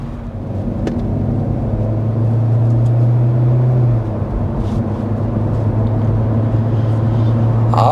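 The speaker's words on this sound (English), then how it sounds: "now that we're getting up to speed here, let's get to 55 miles an hour" Cabin of a 2024 Hyundai Elantra accelerating up to highway speed, a steady loud engine drone and road roar whose pitch climbs then levels off, heard from inside, with no one speaking.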